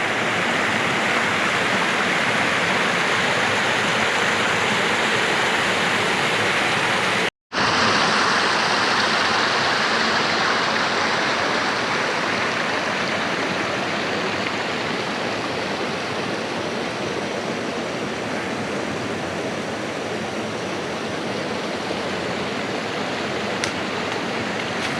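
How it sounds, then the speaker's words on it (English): Foxbar Falls near Stanthorpe pours with a constant, full rushing wash of water heard up close, cut by one brief dropout early on, then carrying on unbroken with no talking. "Foxbar Falls."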